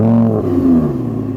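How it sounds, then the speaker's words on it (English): An Audi R8 RWD V10 engine cranks and fires up, settling into a steady, loud low-pitched idle with a strong harmonic hum. "So let's start the Audi up,"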